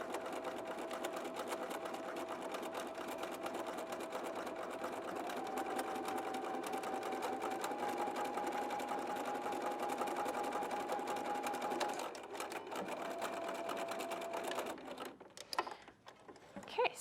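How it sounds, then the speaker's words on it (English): A sewing machine runs a continuous straight stitch for a French seam, a steady close whirring hum that holds for about twelve seconds, then slows with a few stops and handling noises near the end. "This is just like every other straight stitch you've ever run."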